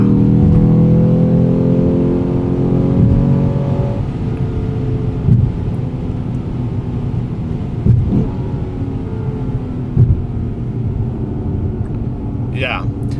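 A Lexus GS F 10th Anniversary Limited sports car accelerates with a loud, strong engine note that eases after a few seconds into a steadier drone, heard from inside the car.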